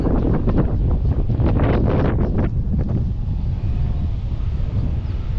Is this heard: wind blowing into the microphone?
yes